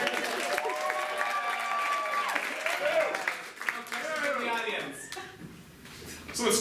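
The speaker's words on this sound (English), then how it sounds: "Can we get a round of applause for Timurger?" A studio audience applauds with some chuckling, the clapping mixed with overlapping talk and shifting voices before it thins out toward the end.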